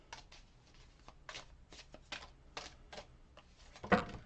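Tarot cards being shuffled by hand in close, crisp bursts of riffling flutter, several quick rounds separated by short pauses, with a louder burst near the end.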